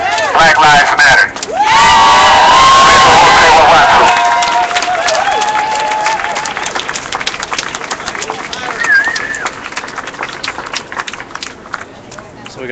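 A large outdoor street protest crowd of a few hundred in San Francisco cheers, whoops and claps in a loud surge that settles into a steady crowd roar, with a voice talking over it.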